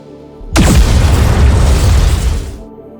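Eden's spear weapon in the NIKKE video game unleashing one massive, loud explosive blast that erupts suddenly and roars for about two seconds before trailing off.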